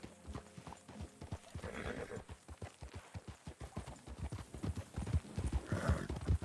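Horses in the video game Red Dead RP, steady clip-clopping hooves at a walk with two whinnying neighs, close and clear.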